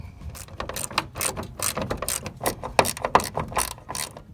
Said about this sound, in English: now take your 10mm and put it in, and tying everything up